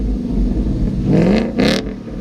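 Ford Mustang fitted with a Roush axle-back quad-tip exhaust revs close by, a deep engine drone that swells twice in short bursts over a steady rumble, without any talking.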